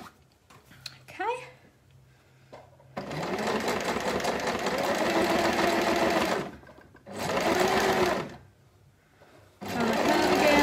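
A sewing machine stitches fabric for a shopping basket in bursts, a long run followed by two shorter runs of rapid, close whirring, with brief pauses and faint handling noises between.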